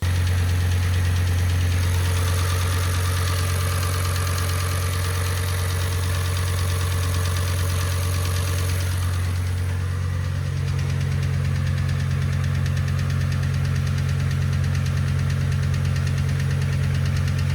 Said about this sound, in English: the tapping noise from the cylinder head was a reason why I removed the engine the second time